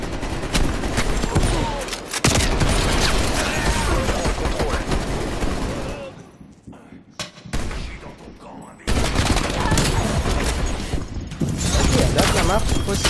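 Rapid sniper rifle gunfire and dense battle noise from Call of Duty Black Ops Cold War multiplayer, loud bursts of shots with a brief quieter lull midway, overlaid with a voice talking.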